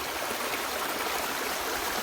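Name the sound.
stream of water flowing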